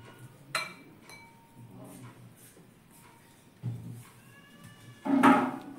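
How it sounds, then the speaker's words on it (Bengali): Medium-sized paneer cubes for chilli paneer tumble into a bowl, with a few close, scattered clinks and soft thuds and one louder ringing knock near the end. "পনিরগুলো এবার এই পাত্রটাতে ঢেলে নেব।"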